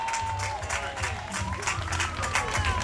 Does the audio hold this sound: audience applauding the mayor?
yes